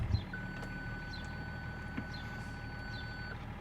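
A BMW X5 E53 from 2003 sounds its parking distance control warning, a few thin electronic beeps spaced out over a faint steady tone and low engine hum, heard close inside the car.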